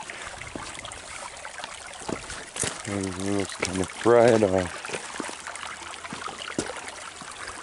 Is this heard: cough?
no